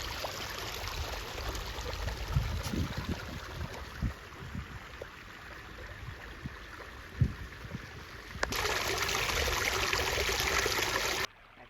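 Waterfall at Aluru Kona near Tadipatri, a steady broadband rush of falling water with scattered low splashes, growing louder and fuller toward the end before cutting off abruptly.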